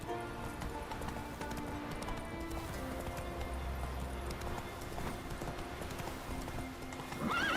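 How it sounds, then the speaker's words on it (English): Hooves of the horse Roach clip-clop at a gallop in The Witcher 3 video game, a steady rapid drumming under a dense game ambience, with a brief whinny near the end and no speech. "Giddy up. Whoa! Come on, Roach."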